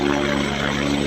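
A helicopter runs at Kedarnath in the snowy Himalaya, where operators such as Pawan Hans fly. Its engine and rotor make a steady, loud drone that fills the whole moment, with no talking.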